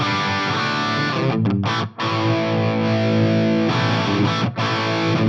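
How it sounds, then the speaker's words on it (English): A heavily distorted electric guitar through a Rocktron Gainiac 2 with a nasal, mid-heavy tone plays sustained chords, with a couple of brief stops, loud and close. "So a very nasal mid-focus distortion sound in there."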